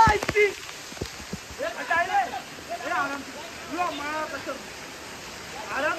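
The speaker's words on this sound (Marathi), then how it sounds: "हा दुसरा वॉटरफॉल" A waterfall in a hidden, out-of-the-way spot sends up a continuous rushing roar of falling water, with people talking over it.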